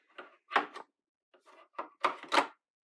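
The plastic front door of an Amber Air S600 overlocker is opened while switching to cover stitch, giving a quick series of close, sharp clicks and clacks in separate bursts with short silences between them.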